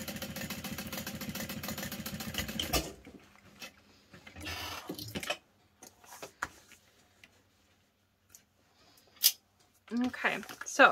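A sewing machine basting a clutch wallet, a fast, even mechanical chatter running for about three seconds, then stopping; sparse handling clicks and rustles follow, with a person talking.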